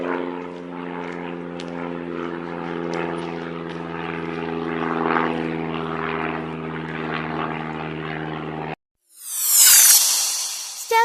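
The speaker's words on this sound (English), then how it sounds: "Seaplane, a plane that can land on water." A seaplane's steady droning propeller engine hums for several seconds, then cuts off and a bright, hissing whoosh of water spray follows.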